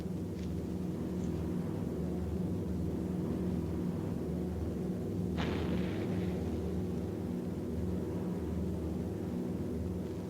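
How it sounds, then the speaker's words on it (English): Anti-aircraft flak barrage bursting around a WWII bomber on its approach, heard over a constant heavy engine rumble, with one sharp distant explosion cracking out midway and faint muffled thuds earlier. "the enemy knows the path of your approach and walls that path with a flak barrage"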